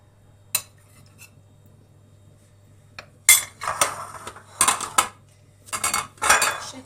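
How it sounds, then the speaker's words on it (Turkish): A spoon stirs a tablespoon of molasses with a tablespoon of water in a small dish, making sharp clinks and clattering scrapes, one early tap followed by several louder bursts of metal knocking against the bowl's sides. "bir yemek kaşığı pekmez bir yemek kaşığı su karıştırıyoruz"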